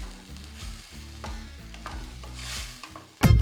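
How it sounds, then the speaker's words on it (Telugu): Tomato puree fries in a pan for an Andhra-style fish curry while a spoon stirs it in repeated scraping strokes. A soft sizzle runs underneath, with a louder clatter at the end and background music throughout. "ఈ టొమాటో ప్యూరీని పచ్చివాసన పోయే వరకు వేగించుకోవాలన్నమాట"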